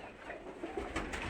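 Koka pigeons coo softly on a farm where many birds are nesting with eggs and chicks, a low murmuring flock sound that swells slightly toward the end, with no voices.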